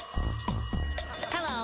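A telephone rings during a prank phone call in a TV cartoon, a short ringing burst mixed with cartoon sound effects and brief vocal sounds.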